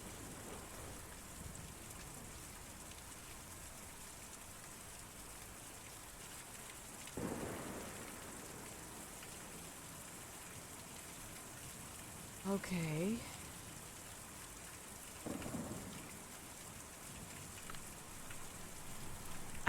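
Steady rain patters in the game Kentucky Route Zero, with low rolls of thunder rumbling up a few times over the soft hiss; a voice speaks briefly partway through.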